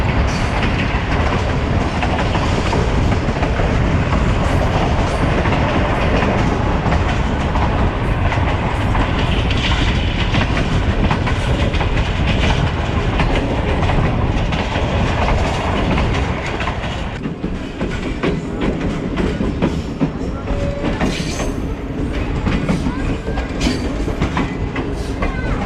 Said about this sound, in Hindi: गुल मोक्कल स्टेशन से through pass amazing track sounds आ रहे हैं।